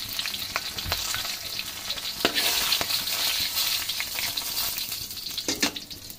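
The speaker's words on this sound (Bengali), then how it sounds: "এখন আমি এই তেলের মধ্যে দেখুন তেজপাতা 4 টুকরা, দারুচিনি 5 টুকরা, লং আর গোলমরিচ 10-12টা, আর 5টা এলাচ দিয়ে দিচ্ছি" Bay leaves, cinnamon sticks, cloves, peppercorns and cardamom pods frying in hot oil for an Eid chicken curry, giving a steady close crackle with scattered sharper pops and occasional stirring taps throughout.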